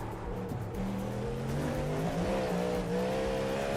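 Car tyres skid and squeal as the brakes lock up in a racing video game, a sustained tonal screech that rises over a steady engine drone for a few seconds.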